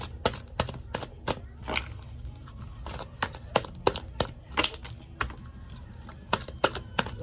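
Tarot cards shuffled by hand during a reading, giving rapid, uneven crisp slaps and riffling clicks close to the microphone, with no voice.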